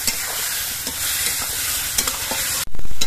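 Turmeric and cumin spice paste with a splash of water frying and being stirred in a pan, a loud continuous sizzle with scraping stirs, ending in a sharper spatula clatter.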